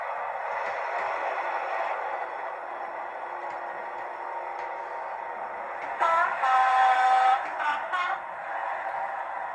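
Hornby Deltic TXS model locomotive sound unit running a steady droning diesel hum, swelling near the end with a brief high tone like a horn blast, at moderate level with no talk.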